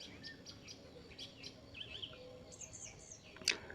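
Small caged birds at a modest village zoo near a waterfall park chirp faintly and intermittently, with one brighter, sharper call near the end, over a soft outdoor background hum.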